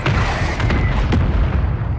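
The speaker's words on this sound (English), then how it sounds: "Copy, stand by for artillery" A loud, deep rumbling boom from an artillery strike in Call of Duty MWIII rolls on for the full two seconds, heavy low-end roar with scattered crackles on top and no talking.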